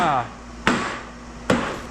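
Two sharp hammer blows struck on a solid surface while driving or punching a core in a shop, each a crisp, loud impact with a short ringing tail, spaced under a second apart, following a brief stretch of talk.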